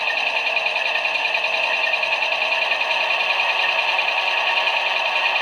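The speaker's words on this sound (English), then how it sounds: "I'll play the dynamic brake sound or the dynamic brake fan." A steady whirring fan hum from an O scale Amtrak P42 model locomotive's dynamic brake, thin and electronic, holding one constant pitch with no talking.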